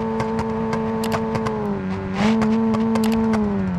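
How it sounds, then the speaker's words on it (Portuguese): A car engine in the BeamNG.Drive video game holds a steady, loud rev, its tone rising slightly midway, punctuated by a series of sharp exhaust pops and crackles. "vou ficar acelerando aqui, ó. Tá saindo fogo"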